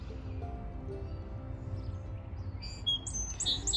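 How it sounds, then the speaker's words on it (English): A sparrow sings in a spring garden, a few faint high chirps arriving near the end over quiet background hum, fairly distant and soft. "Yeah, you hear that sparrow singing."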